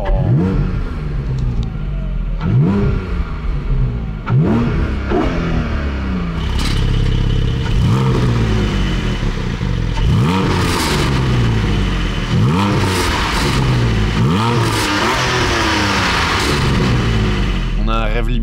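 The 4.0-litre naturally aspirated flat-six of a Porsche 718 Boxster GTS revs with its exhaust valves open, giving a series of sharp, rising blips in a steady rhythm, loud and close.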